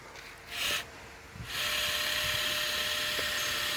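Minn Kota Ulterra trolling motor deploying on a boat, a high electric whine that starts briefly, pauses, then rises into a steady loud motor hum running to the end.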